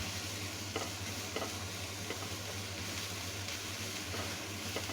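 Finely chopped garlic and ginger sizzle in hot oil in a pan, giving a steady, close frying hiss with no talk.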